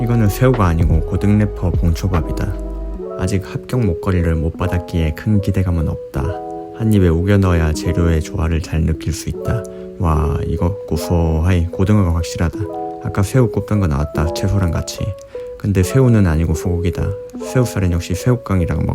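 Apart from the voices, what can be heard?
No distinct noise like a dog, phone or traffic.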